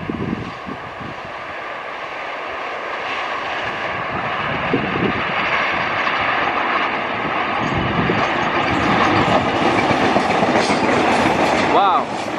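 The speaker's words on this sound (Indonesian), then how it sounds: "Kita nantikan KRDE Bias melintas langsung di stasiun Belanggu." A KRDE Bias diesel multiple-unit train passes Belanggu station, a long building roar of engine and rolling wheels with rhythmic clicking, ending in a high squeal, with voices faint beneath.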